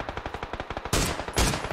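Rapid, evenly spaced automatic gunfire in PUBG, about a dozen quick cracks in a steady rhythm, followed by two heavier, louder blasts close together.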